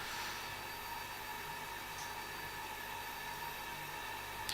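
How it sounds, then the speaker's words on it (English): An air conditioning unit runs indoors, giving a steady, even broadband hiss of white noise that fills the whole stretch without change. "That is the air conditioning unit."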